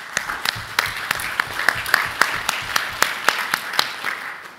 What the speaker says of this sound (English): I will request everyone to please clap on the community behalf for the APNIC staff